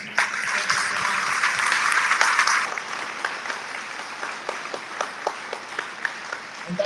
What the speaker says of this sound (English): So a round of applause for our team